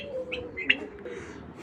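A pair of bloodline racing pigeons gives a few brief, faint chirping calls over steady low background noise.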